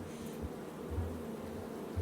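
Bees buzz in a video game, a faint continuous droning hum with small pulsing swells, steady and low in the background with no voices.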